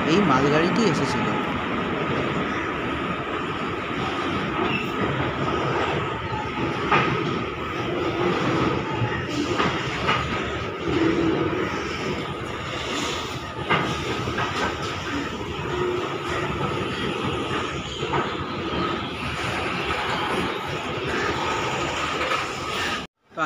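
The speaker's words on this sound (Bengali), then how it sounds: "প্ল্যাটফর্মে বসে থাকার সময়ই সেখানে এই মালগাড়িটি এসেছিল।" A freight train rolls into platform 2 at Malda Town station, a loud, continuous rumble with clattering wheels and metallic squeals close by that stays steady throughout, with busy station noise and faint voices beneath it.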